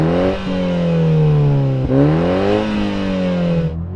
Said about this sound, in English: I'm going to rev this thing up.